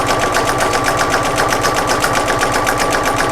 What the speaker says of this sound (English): And now I'm going to go across the top just to stay stitch those 2 pieces together.